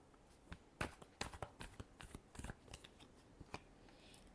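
Tarot cards being shuffled, a run of crisp riffling snaps and soft slides in quick irregular bursts, close and fairly quiet with no voice.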